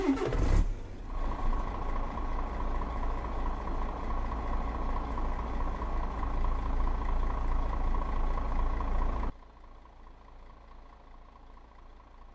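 Heavy truck engine with gearbox whine in a truck driving game, a bitrain Hermann rig on a Ceibo map, droning steadily and loud at idle-like revs before dropping to a quieter low rumble near the end, no talking.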